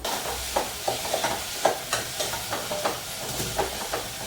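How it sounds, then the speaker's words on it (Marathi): Salted onion fries in a pan, a soft continuous sizzle broken by regular scraping strokes of a spoon stirring at a steady rhythm. "चांगलं भाजू दे कांदा चांगला भाजलेला आहे"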